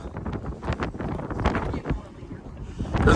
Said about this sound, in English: It's a tremendous amount of wind.